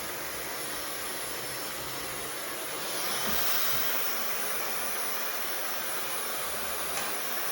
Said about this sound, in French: c'est le grand moment, le sèche-cheveux